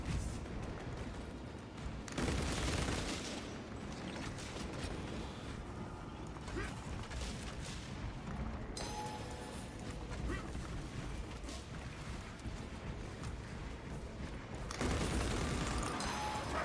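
Gunfire rattles through a Space Marine 2 co-op battle against Tyranid spore mines, dense bursts of shots and booms layered with mechanical clatter and battle noise throughout, with voices calling out over the fighting.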